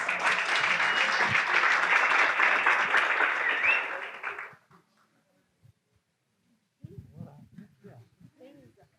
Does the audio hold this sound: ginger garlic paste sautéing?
no